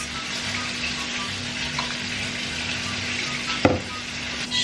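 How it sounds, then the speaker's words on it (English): Big Mac beef patties sizzling in a pan, a steady close hiss of frying running throughout with a faint hum beneath and one brief clatter near the end, no talking. "The last of the patties are cooking"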